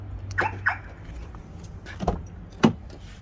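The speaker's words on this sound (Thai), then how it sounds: "นี่กุญแจรีโมทนี่มาพร้อมเลยนะครับผม กดเปิดครับ" A 2003 Honda CR-V 2.0 i-VTEC 4WD being unlocked by remote key, giving a few short clicks and a sharper door-lock clunk near the end, heard close and fairly clear over a low idle-like rumble outdoors.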